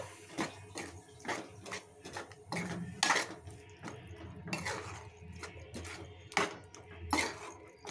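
A metal spoon stirs gongura chicken curry with added water in a pot, giving intermittent clinks and scrapes against the pot at an uneven rhythm, close and moderately loud.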